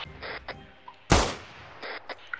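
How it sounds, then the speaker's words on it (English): A single sharp, loud gunshot rings out in a military video game, preceded and followed by fainter clicks and rustling game noises. "Gunshot."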